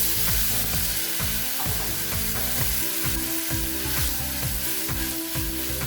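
Masala sizzles and fries steadily in a pan with tomato paste for a salmon fish curry, a loud continuous crackle with rhythmic stirring scrapes throughout and no talking.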